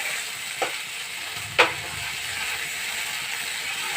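Spice masala fries in a pan for an egg and eggplant curry, a steady, moderately loud sizzle with a couple of sharp clinks or scrapes, no voices.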